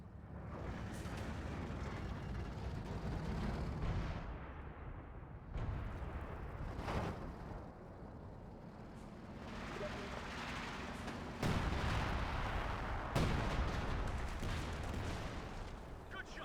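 Artillery barrage in the WWII strategy game Company of Heroes 2, with dense rumbling booms and blasts rolling continuously through a noisy battlefield mix, several sharper impacts standing out near the end.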